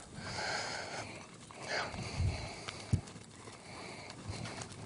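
A horse moves on a lunge line in a circle, with soft hoof falls, a snort and breathing heard at a moderate distance over outdoor background noise, no talking.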